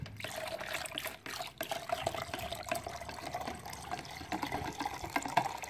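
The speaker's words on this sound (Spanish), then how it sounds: "Ahora es momento de agregarle poco a poco el agua de esta manera." Water trickles little by little into a homemade lotion mixture being stirred, a soft uneven dribbling and liquid movement close by with faint clicks, no talk.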